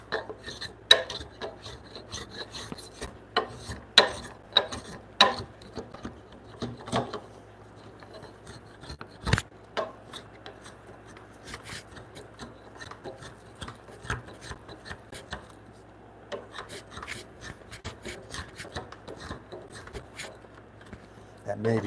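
A hand plane shaving wood near a knot, working against the grain in a workshop: intermittent scraping, rasping strokes in uneven bursts, close and fairly quiet, with a steady low hum underneath.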